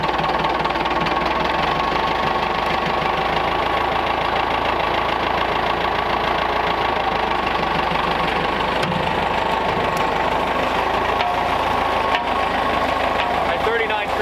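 Old 1930s–40s Ford truck chassis being dragged out of a farm fence row by a running vehicle, a steady mid-pitched engine drone with knocking, continuous and fairly close throughout.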